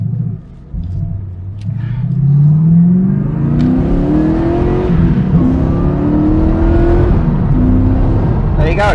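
A TVR Chimaera's engine revs hard, pitch climbing in loud, rising sweeps through several gears as the car pulls away, with a deep rumble underneath.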